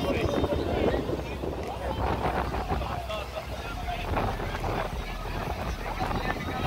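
Strong wind buffets the microphone outdoors before a fireworks display in a constant low roar, with someone talking underneath the gusts.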